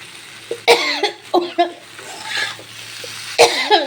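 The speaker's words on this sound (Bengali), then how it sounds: "10 মিনিটের মতন আমি এটা ভালো করে এখন কষিয়ে নেব।" Taro (mukhi) being sautéed and stirred in a pan, with scattered scraping clatters and soft sizzling under quiet background sound, a couple of sharp louder knocks near the start and end.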